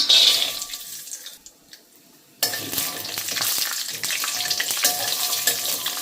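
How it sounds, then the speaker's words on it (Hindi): Cashews frying in ghee in a kadhai over low flame, a brief quiet pause and then a sudden steady crackling sizzle with frequent small pops continuing to the end. "सबसे पहले काजू फ्राई कर रही हूँ इसमें।"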